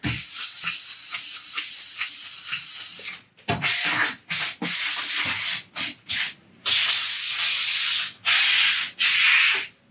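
A painted surface being sanded by hand for an aged-paint and glaze decorative finish, a continuous abrasive rubbing that breaks into several short strokes with brief pauses, close and loud with no talk.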